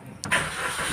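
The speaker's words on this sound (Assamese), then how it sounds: "আমাৰ দেউতাই গাড়ী ষ্টাৰ্ট দিছে" A car engine cranks and catches, then settles into a steady idle, the start sharp and close and the running engine holding loud and even.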